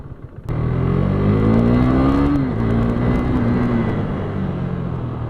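A KTM RC390 motorcycle engine revs hard as it accelerates, loud and close, its pitch climbing steeply before easing into a steady higher drone. No one talks.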